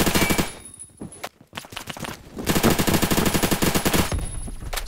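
An X95 SMG submachine gun fires in long rapid automatic bursts in the online shooter game Phantom Forces, loud and close, breaking off briefly before resuming sustained rattling fire.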